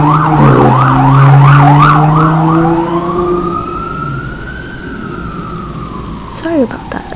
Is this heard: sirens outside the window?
yes